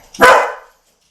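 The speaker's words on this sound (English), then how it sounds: "Uh-oh, that was a dog." A single sharp dog bark rings out loud and close, a short burst that fades quickly into silence.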